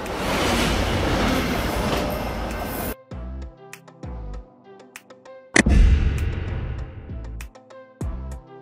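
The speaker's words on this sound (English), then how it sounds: "Long distance train. A train service designed to cover significant distances," Long distance train rumbling loudly at first, then a sparse, rhythmic run of sharp metallic clicks and clacks from the wheels, with a second surge of rolling noise midway.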